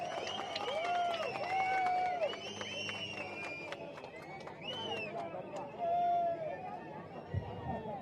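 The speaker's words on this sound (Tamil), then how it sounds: "மிகுந்த கரகோஷத்தோடு அண்ணாமலை அவர்கள் வரவேறுங்கள்." A crowd at a public meeting in Madurai welcomes Annamalai with applause, shrill whistles and cheering, a loud, continuous mix of clapping, rising and falling whistles and crowd babble.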